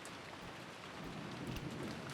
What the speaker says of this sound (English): It sure is raining hard.